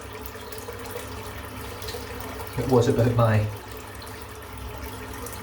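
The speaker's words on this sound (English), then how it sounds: "I'm just going to fill the sink up" Cold water running from a tap into a sink, a brief burst of gushing and filling of about a second amid quiet room tone, with a voice speaking briefly around it.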